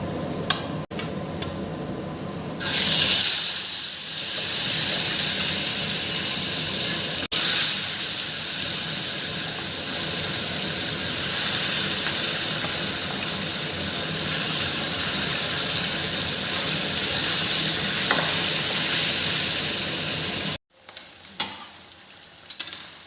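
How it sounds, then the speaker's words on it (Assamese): Fish frying in a pan in a home kitchen, a loud steady sizzle and hiss running for about twenty seconds, with occasional stirring sounds, then cutting off abruptly near the end. "মই মাছখিনি ভাজি লওঁ।"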